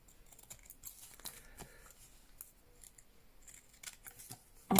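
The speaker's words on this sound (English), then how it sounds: "trim him up with my scissors" Scissors trimming paper for a book-page journal belly band: a series of quiet, close snips and slicing cuts with light paper rustles in between, ending in a louder crinkle.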